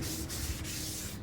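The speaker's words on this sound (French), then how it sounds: "N'oubliez pas de nettoyer avec du nettoyant frein." Aerosol brake cleaner sprayed onto a rear brake disc of an F10 car with an electric parking brake: a steady, close, continuous hiss lasting over a second, with no talking.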